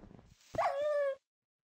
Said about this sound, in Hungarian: Itt is van egy kutya, gyere!